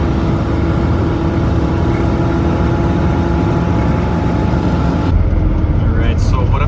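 A car cruising along a desert road near Bombay Beach, a steady loud engine and road rumble filling the cabin, with a brief shift in tone near the end.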